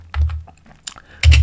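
Typing a terminal command for a Linux CTF exercise on a computer keyboard: a short burst of close, loud keystrokes, a brief pause with faint taps, then another dense cluster of keys.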